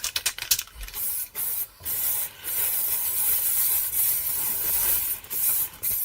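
Primer sprayed onto a zinc aluminium casting from a vintage Reslo RV ribbon microphone: close, loud hissing bursts, several short sprays at first, then a long continuous spray broken by brief pauses.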